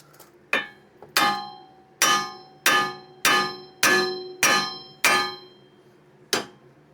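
Eight sharp metallic hammer blows on car suspension parts ring out close by in a steady rhythm, each clanging strike fading quickly, followed by one final hit after a pause.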